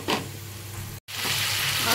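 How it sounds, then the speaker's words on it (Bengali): Papad frying in a pan in a home kitchen, a steady, close crackling sizzle that runs throughout with one brief silent gap in the middle. "এদিকে একটু পাঁপড় ভাজা করছি দেখতেই পাচ্ছ"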